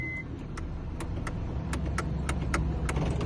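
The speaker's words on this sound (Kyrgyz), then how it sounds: "Бул мотордун үнү." A used car's engine idles at a dealership in Belovodsk, giving a steady low rumble close by with faint regular ticking clicks over it and no talk.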